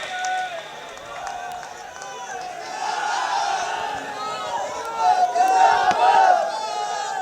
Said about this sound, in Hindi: एक बार पुनः कनिका जी के लिए जोरदार तालियों के साथ स्वागत और सम्मान।